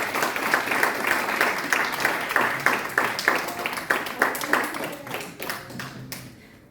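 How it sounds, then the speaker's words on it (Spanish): A church congregation at a Sunday service applauds together, loud close clapping in a quick, fairly regular rhythm that thins out and fades toward the end. "Démosle el aplauso grande al que vive para siempre"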